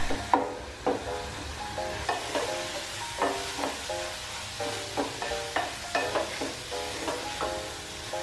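Onions sizzle in a hot pan while a utensil scrapes and stirs them in a steady rhythm of repeated strokes, close and moderately loud with no talking.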